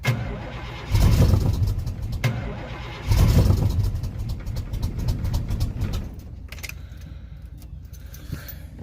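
Lifted 1985 Chevrolet Suburban engine cranking after its carburetor was sprayed, with two loud close starter-cranking bursts followed by a rougher, quieter rumble and scattered clicks.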